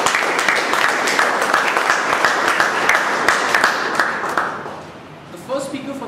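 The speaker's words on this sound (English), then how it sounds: "Can you have a big round of applause for all the" A meeting audience gives a round of applause: dense, steady clapping from many hands close by, holding for about four seconds before thinning out and fading, with a voice briefly heard as it ends.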